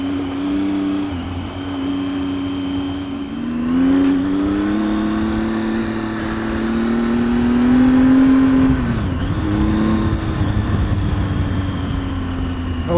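A Triumph Tiger XCx adventure motorcycle rides off-road over desert whoops, its engine droning steadily and close, rising in pitch with throttle and dipping briefly before pulling again.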